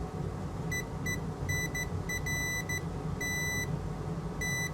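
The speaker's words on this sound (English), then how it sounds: "I'm going to use my multimeter in continuity mode and just test from here to right here" A multimeter set to continuity mode, used to check the repaired power connector of a PS4 Pro, gives short bright beeps in uneven bursts over a constant low hum from the workbench.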